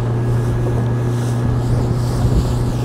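A Boston Whaler 160 Super Sport motorboat runs on a lake in Aalsmeer, its outboard engine holding a steady, close drone with wind buffeting the microphone and faint water noise, with no talking.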